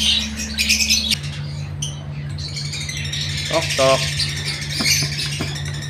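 Newly hatched chicks give brief squawks and thin chirps in short clusters near the middle and end, under a person talking.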